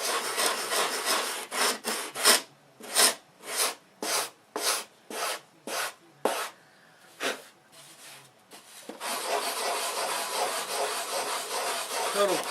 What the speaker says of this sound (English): whittle it out, and then I'm showing you the sanding how I do it